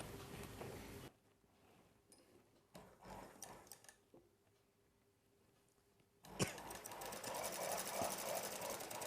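A sewing machine stitches a boat neck Punjabi dress, running in a steady whirring burst at the start, falling quiet through a long pause with faint handling sounds, then resuming loud and continuous to the end.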